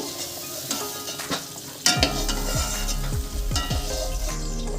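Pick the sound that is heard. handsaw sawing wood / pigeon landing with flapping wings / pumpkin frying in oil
pumpkin frying in oil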